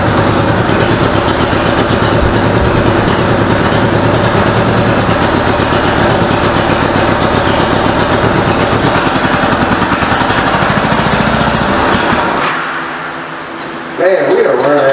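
A 1986 Honda Goldwing GL1200 SE-i engine runs loud and close at a fast idle with a busy, rattling exhaust, then briefly dips and drops away near the end before a sharp return.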